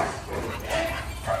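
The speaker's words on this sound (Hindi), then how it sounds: "धीरे धीरे करके सारे डॉग्स बाहर आते हुए, चिंकी, खुशी, मैगी और हनी, चारों डॉग्स" Akita dogs giving short barks and yips close by, a few quick bursts over about a second and a half, with a person's voice faintly mixed in.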